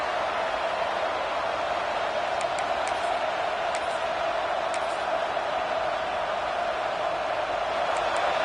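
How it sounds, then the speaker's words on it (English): A huge stadium crowd at an American football game against Michigan roars in a steady, unbroken wall of noise, distant and sustained, with a few faint sharp sounds poking through. "Listen to this crowd just shaking the girders of this place trying to help their defense."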